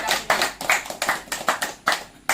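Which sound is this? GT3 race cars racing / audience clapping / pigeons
audience clapping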